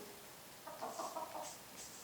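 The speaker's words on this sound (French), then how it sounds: "Là c'est le poulet ou la poule, je sais pas" A chicken in a video game clucks in a short, faint run of three or four quick clucks over a quiet background.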